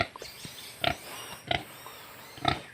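A pregnant pig grunts in three short, loud bursts spaced about a second apart, with quieter snuffling and shuffling between them, at a pig farm.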